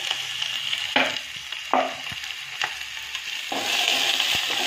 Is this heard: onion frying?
yes